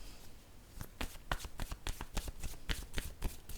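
A deck of word cards being shuffled by hand, a run of crisp riffling bursts in quick irregular rhythm, close and clear with no voices.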